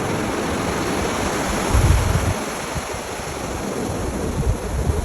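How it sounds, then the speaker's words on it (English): Cold ocean waves wash onto the shore in a steady broadband roar, close and loud, with a heavier surge about two seconds in and a light rush of wind on the microphone. "I can have the natural vibes of the real ocean."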